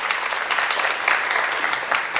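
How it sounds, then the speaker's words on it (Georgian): Studio audience at a school quiz show clapping, a brisk even patter of applause that stays fairly loud and steady, with no speech over it. "აპლოდისმენტები."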